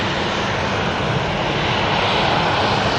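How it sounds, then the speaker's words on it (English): A Boeing 757 jet roars past at Manchester Airport, a loud, continuous broadband engine rumble that holds steady for the whole stretch with no voices over it. "Oh, that 757 was absolutely gorgeous."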